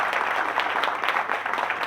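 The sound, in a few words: applause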